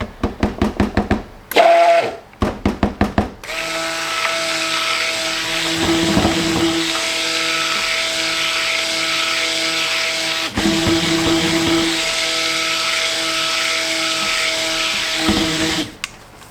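A stick blender mixing soap whirs steadily for several seconds, a close, buzzing motor hum with brief stops and restarts, preceded by some clattering handling noises.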